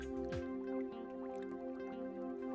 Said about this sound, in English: placed the leaf in our pot of boiling water for 2 minutes